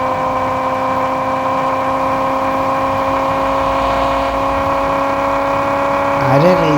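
A video game car engine holds a steady high whine while revving, loud and continuous with a slight pitch wobble at the end and no break.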